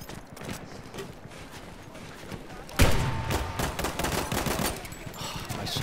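Rifle fire in Battlefield 1, with gunshots amid busy battlefield noise that jump to a louder burst partway through and then continue as dense firing and rumble.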